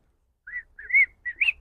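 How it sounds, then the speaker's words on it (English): A person whistles a short tune of four quick, clear, bright notes, close and alone against near silence. "that was a damn good whistle."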